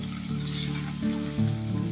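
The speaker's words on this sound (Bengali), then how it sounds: "লাল লাল করে ভেজে নিচ্ছি" Rohu fish pieces fry in hot oil, giving a close, loud, steady sizzle broken by a few bursts as the pan is stirred or the fish shifts, with no talking.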